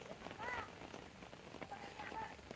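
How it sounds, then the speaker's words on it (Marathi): Light rain patters steadily outdoors at the start of the monsoon in the Konkan countryside, faint and even, with a few distant bird calls above it. "पावसाला अशी सुरुवात झाली"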